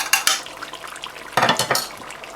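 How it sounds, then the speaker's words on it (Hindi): Spices are stirred into mutton karahi in a cooking pot, a spoon scraping and clinking against the metal in a few quick bursts, with a faint simmering underneath. "इसे अच्छी तरह मिक्स कर लें"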